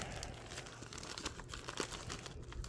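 Packaging around Goldback notes being opened, crinkling and tearing of plastic wrap in quick irregular bursts, close and fairly quiet.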